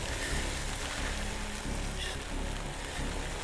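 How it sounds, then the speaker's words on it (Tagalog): Rain falling on a dangerous mountain pass road in Kalinga Province, a loud continuous wash of drops drumming on surfaces with a steady low rumble beneath, close and unbroken. "Palakas ng palakas yung ulan."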